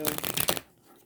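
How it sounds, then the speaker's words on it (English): A deck of tarot cards riffles quickly and closely for about half a second in a dense burst of flicks, then stops into quiet. "Let's shuffle it a few times more."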